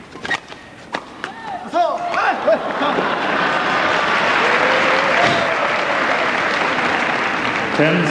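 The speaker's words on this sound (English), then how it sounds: "round of applause for the umpire" Applause from a crowd at the 2000 All England Open badminton men's doubles semi-final, starting with a few scattered claps, then swelling into sustained, steady clapping across the arena with a voice speaking over it.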